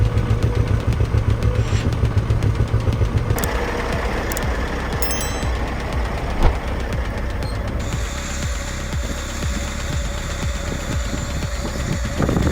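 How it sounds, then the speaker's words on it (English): A Komatsu 895 forwarder working with heavy logs in a Jämtland forest gives off a loud, steady diesel drone with a rapid pulsing throb, holding continuously, with one brief clank partway through. "The powerful engine of the Komatsu 895 in Jamtland operates strongly and durably, easily conquering large, heavy logs."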